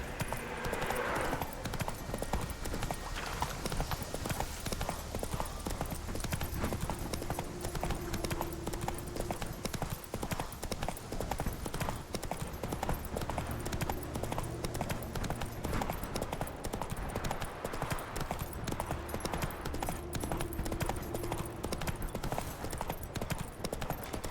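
A horse gallops in The Witcher 3 with rapid, steady hoofbeats running continuously and close for the whole stretch, with faint voices and game ambience beneath.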